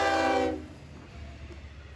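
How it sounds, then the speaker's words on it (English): A freight train horn blares briefly and loudly at a road crossing, then cuts off, leaving the low rumble of the passing train. "engine 400 passes through Bayshore Crossing"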